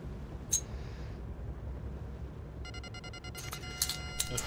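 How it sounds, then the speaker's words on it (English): Electronic beeping alerts in GTA Online, a short chirp early on, then a run of repeated tonal beeps building toward the end, heard over a low steady background. "Oh, the beep beeps."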